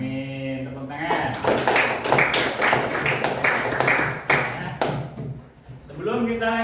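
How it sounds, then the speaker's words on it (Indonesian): A class of junior high students claps together in a school lesson, a dense burst of applause lasting several seconds between bits of a teacher's voice. "Tepuk tangan."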